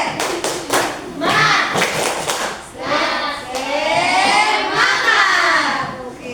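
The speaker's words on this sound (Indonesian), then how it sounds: "Tepuk semangat." Schoolchildren in a class perform a rhythmic 'tepuk semangat' clapping cheer: a quick patterned series of sharp claps, then a longer stretch of clapping with voices chanting along.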